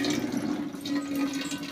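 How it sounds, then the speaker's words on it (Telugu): Water poured from a full pot over a Ganesh idol standing in a plastic tub, a brief, close, continuous splashing gush. "నిండు బిందె నీళ్ళతో ఇలా అభిషేకం లాగా చేసుకొని పెట్టుకోవాలి"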